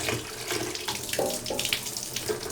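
Water splashing and running over the outside of a motorcycle fuel tank, a steady wash with a few gurgling pours, close and fairly loud.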